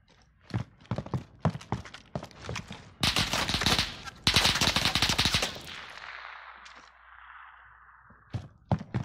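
Rapid bursts of gunfire crackle close by in quick succession, some fast automatic volleys, followed by a fading whoosh and a few scattered shots.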